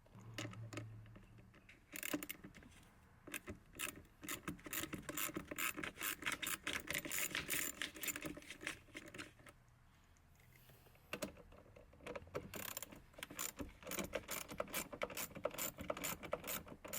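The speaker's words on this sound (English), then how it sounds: "Go ahead and take a socket and remove the positive first and then the negative." A socket ratchet clicks in rapid, busy bursts while 10mm nuts are loosened from the terminals of a Toyota Prius C battery. The clicking is close and fairly steady, with a short lull partway through and no talking.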